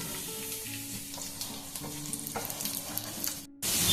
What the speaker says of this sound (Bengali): ঘি বা বাটার যে কোনো একটা দিতে এখানে দিয়ে দেবো আমি কাজু আর কিশমিশগুলো